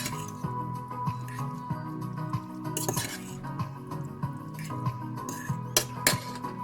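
Tomato-flavour instant noodles with sautéed beef and soy sauce are stirred in a bowl, giving steady wet squishing and scraping with occasional utensil clinks against the dish, close and continuous.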